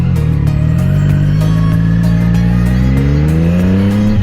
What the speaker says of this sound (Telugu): లైక్ బైక్ ఇట్లా అరుస్తుంది, కమాన్ కమాన్ పుష్ మీ హార్డ్ అని.